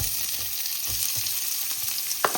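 Mustard seeds, urad dal, fennel and cumin fry in hot oil in a pan with a steady, close sizzle and faint crackles and pops, and no one speaks.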